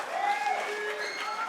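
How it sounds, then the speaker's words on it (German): An audience at a beatbox battle semifinal gives steady, dense applause, a continuous wash of clapping filling the short moment. "Macht mal Applaus für Foxy"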